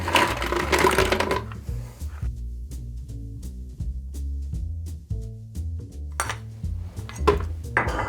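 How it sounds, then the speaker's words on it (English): Ice being scooped into a glass for an orange gin and tonic, heard as bright clattering rattles at the start and end, with softer clinks and knocks of ice and glass between, close and with no talk. "Grab your scoop and a little bit of ice."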